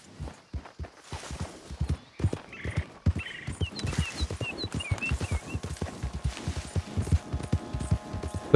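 Steady hoof clip-clop of a walking horse with a brief whinny partway through, set against an ambient game-like background, in Red Dead Redemption 2.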